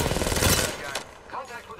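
Automatic gunfire in Apex Legends rattles in a rapid burst through the first second, then fades under quieter game sounds and a brief voice.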